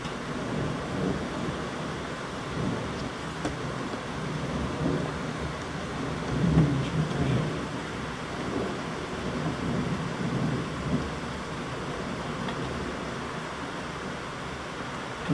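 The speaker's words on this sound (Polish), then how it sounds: "To jest najsilniejsza burza." Heavy thunderstorm over a town in the evening: steady dense rain with low rolling thunder rumbling throughout, swelling louder around the middle, close and continuous with no voices.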